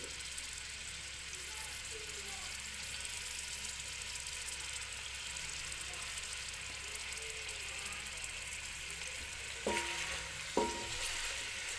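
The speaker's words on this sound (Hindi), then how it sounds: "अब इसको हिलाऊंगी ताकि ये हल्की सी ब्राउन हो जाए" Food frying in a pan for aloo palak while being stirred until light brown, a constant soft sizzle with a couple of brief scraping clinks near the end, close but fairly quiet, no voices.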